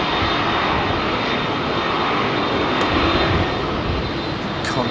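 A heavy jet airliner departs runway 27R at London Heathrow, its engines a loud, steady broadband roar that holds close and constant without a break.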